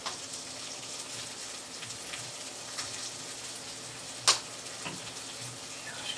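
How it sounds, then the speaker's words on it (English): Pork chops searing over medium heat in a pan: a steady, fairly quiet crackling hiss with one sharp click partway through, no talking. "I'm just cooking these pork chops on medium. Just to sear them."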